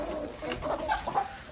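Cochin chickens, a splash rooster with blue and black hens, clucking softly and steadily in a breeding pen, close by with no talking.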